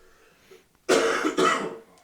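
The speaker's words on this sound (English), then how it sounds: "Let me cough." A man in a podcast studio coughs twice in quick succession, close to the microphone, after a quiet moment.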